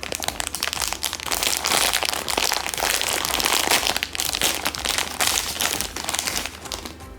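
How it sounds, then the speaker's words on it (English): Plastic packaging crinkles and crackles continuously as it is peeled off a brown buffalo pocket plushie, loud and close with dense bursts of rustling. "Let's take off this plastic real quick."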